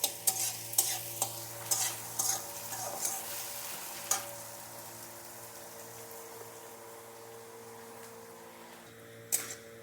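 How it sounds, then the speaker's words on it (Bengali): Onion and garlic fry in a wok, giving a soft, steady sizzle with sharp stirring scrapes and clatters near the start and again near the end, over a low constant hum. "পেঁয়াজ আর রসুনটা আগে আমি একটু বেরেস্তা বানিয়ে নেব একটু ভেজে নিচ্ছি একটু লাল লাল করে ভেজে নেবো"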